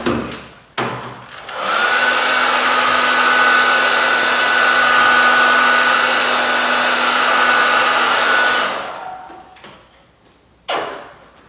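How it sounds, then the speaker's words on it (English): Heat gun blowing hot air onto a bent plastic seam of a KTM motorcycle during graphics installation, a steady loud whooshing drone with a faint whine that starts abruptly, holds for about seven seconds, then cuts off, with brief handling knocks around it. "So I'm going to heat up this seam right here, this bend in the plastic."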